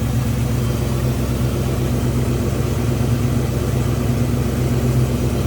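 A 1958 Chevrolet Apache truck's 402 V8 with a 4-barrel carb idles steadily, a deep, even rumble with a regular low throb that stays constant throughout.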